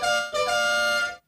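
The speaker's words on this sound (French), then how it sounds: "Mais à la place, j'ai acheté un nouveau klaxon." A cartoon car horn, newly bought in place of a sold back seat, blares twice: a brief honk, then a longer sustained bright blast that cuts off abruptly, loud and close.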